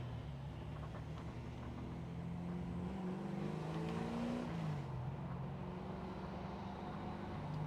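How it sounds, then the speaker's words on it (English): Car engine pulling hard up a winding road of switchbacks with strong torque, heard from inside the cabin as a steady, loud drone whose pitch rises and falls through gear changes. "geez, it sounds good. Such a good sounding car now"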